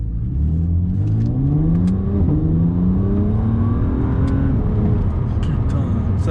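BMW Z4 35is sports car accelerating hard with its wheels spinning, engine note climbing steadily in pitch as it pulls, loud and close throughout.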